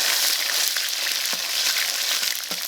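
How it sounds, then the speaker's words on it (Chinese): Pork fat sizzling hard in a hot wok with vegetable oil and lard, a steady dense crackle up close with a few soft stirring scrapes. "把肥肉先下锅"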